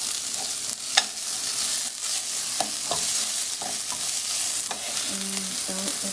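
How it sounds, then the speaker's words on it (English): Onion sautés in a hot pan for Mexican red rice, giving a continuous close sizzle broken by scattered spoon scrapes and taps, with no talking. "Go ahead and saute it."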